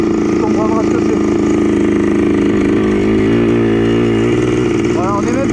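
Yamaha Blaster quad running in sand, its engine held at a loud, close, buzzing rev with pitch rising and falling through gears, voices talking over it throughout.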